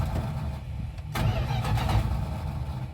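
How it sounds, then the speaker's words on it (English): A 1973 Chrysler 400 V8 pulled from a junkyard turns over on the starter, a close, loud, rhythmic low cranking that surges into a rougher, churning rotation after a second and continues steadily. "I'm going to first see if it actually turns over smoothly"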